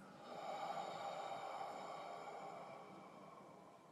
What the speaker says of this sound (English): Taking a deep breath in and then out.